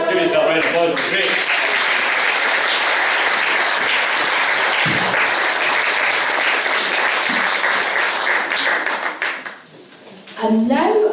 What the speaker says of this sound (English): Give yourself a round of applause, it was great.